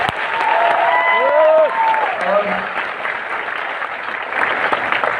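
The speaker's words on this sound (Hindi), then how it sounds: "बजाना तालियां।" Audience applause at a seminar, dense and sustained clapping throughout, with whistles or shouts rising over it early on.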